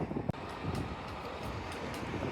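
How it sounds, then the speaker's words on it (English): Wind gusts through a street in Edinburgh, a low continuous rumble buffeting the microphone, with one short knock near the start. "A bit windy here."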